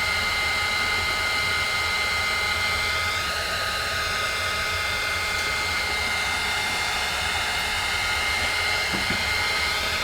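A handheld heat embossing tool blows hot air to melt Tsukineko embossing powder, giving a steady, loud, unbroken whooshing roar that holds for the whole stretch with no talk.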